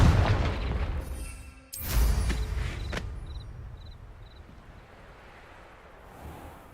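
A Confringo blasting curse from the Harry Potter world erupts as a loud booming explosion, with a second heavy blast and crackling debris, then the rumble fades into a lingering hiss and small metallic clinks.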